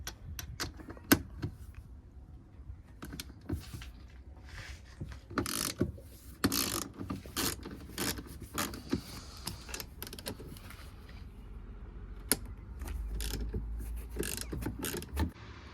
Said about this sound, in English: Start by removing the two 12mm nuts.